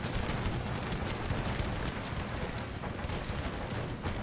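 Dense, continuous volleys from massed infantry and cannon in Empire: Total War's Battle of Martinique, a loud unbroken roar of overlapping shots and booms throughout.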